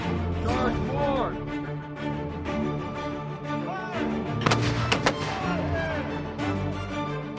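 Live artillery and small-arms fire during the Garuda Shield 2022 combined live-fire exercise with US 25th Infantry Division soldiers and the Indonesian TNI Army, with a few sharp blasts standing out over a steady rumble while people talk throughout.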